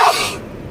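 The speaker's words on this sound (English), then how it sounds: "Holy shit, I gotta sneeze again." A single sharp human sneeze, close and loud, bursting out suddenly and then fading quickly.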